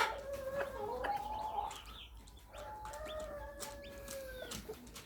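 Hens and chicks in a coop, with several clucks and soft bird calls at close range over a quiet background.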